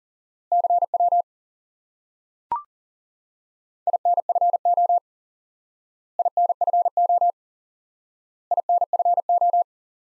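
A CW Morse code tone sounds in four evenly spaced groups of short, clean beeps at one steady pitch, with a single sharp click between the first two groups, and silence around them.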